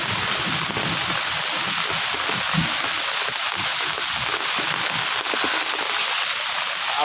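Heavy rain pouring steadily in Gajapati, a dense, unbroken hiss of drops drumming on surfaces close by, with no talking.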